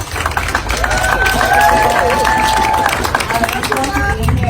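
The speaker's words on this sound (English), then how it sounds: "Please give applause to Alondra Alvarez and 48048." Protest crowd at an anti-ICE rally outside a corporate headquarters in Detroit applauding a speaker, loud dense clapping with cheers and crowd voices throughout, a talker briefly audible near the end.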